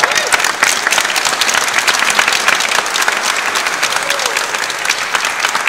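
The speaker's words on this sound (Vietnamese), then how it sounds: "Mời các bạn chúc mừng Kiều Quanh một tràng pháo tay." Wedding guests in a church hall at St Bridgid's, Marrickville, give a loud sustained round of applause, dense overlapping clapping from many hands close by.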